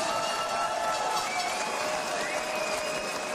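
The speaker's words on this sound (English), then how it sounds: "We get a nice round of applause out here for both of these fighters" A crowd at a San Antonio boxing event applauds both fighters after a 10-round bout, a steady wash of clapping and cheering that holds at an even level throughout.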